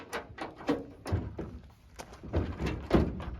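A repaired GMC Sierra pickup tailgate swings shut with a solid, close thunk, followed by a few lighter knocks and rattles as it settles against the latches.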